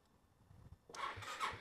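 A 250cc scooter engine starting: a quiet low rumble from the starter, then the engine catches abruptly after about a second and runs loud and steady, close by.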